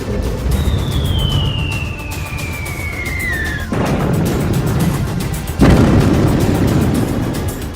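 Iranian missiles strike Israel: a long descending whistle ends in a loud explosion, and a second heavy boom follows about two seconds later, all over a continuous rumbling background.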